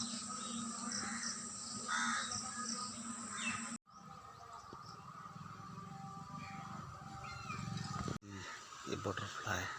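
Crows or similar birds caw from tree branches in a village setting, their calls repeating over steady ambient outdoor noise and a constant high buzz, with brief cuts in the sound.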